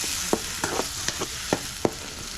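A paste of ground onion, tomato and garlic sizzles in hot oil for a spicy dried-fish dish while a spoon scrapes and stirs the pan, giving a steady fry hiss broken by several sharp knocks, with no talking.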